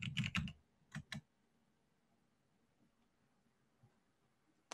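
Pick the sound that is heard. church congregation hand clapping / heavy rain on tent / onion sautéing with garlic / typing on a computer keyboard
typing on a computer keyboard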